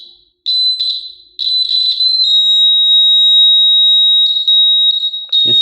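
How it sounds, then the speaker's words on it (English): A loud, steady high-pitched electric buzzer tone sounds in a few short bursts, then holds continuously, ending with a brief clatter. "Now here you see we have taken a buzzer."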